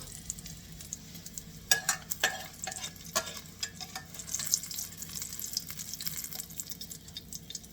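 Veal browns in a pan for bolognese, sizzling and crackling steadily while a utensil scrapes and stirs it in irregular bursts, close and fairly loud with no talking.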